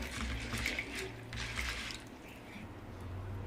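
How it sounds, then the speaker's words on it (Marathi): Sabudana (sago pearls) are rinsed gently by hand in water, with soft, quiet sloshing, dripping and squishing close by and no talk. "याच्यामध्ये आपण पाणी घालू तर बघा असं पाणी घालून याला हलक्या हाताने असं थोडंसं धुवून घ्यायचं"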